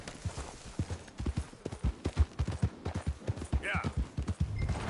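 A horse's hooves clip-clop at a steady riding pace in the video game Red Dead Redemption 2, a close, rhythmic drumming of thuds that runs throughout while a voice speaks briefly.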